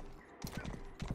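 Quick hoofbeats of a galloping horse in the medieval game Rustler, a few close, hollow thuds arriving in two short bursts over a low background hum.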